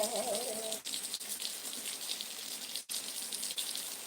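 Steady rain falls in foggy weather as a dense, even hiss with patter, with a brief voice-like tone at the very start and a few faint knocks.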